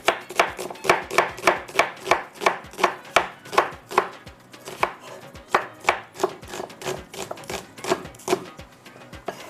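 Onions being chopped on a cutting board: a fast, even run of about twenty-five crisp knife knocks, close and loud, with no talk.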